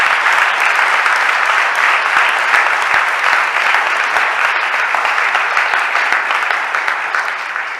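A large audience at a city budget address applauds steadily, a dense, loud wash of clapping that holds for several seconds and eases slightly toward the end.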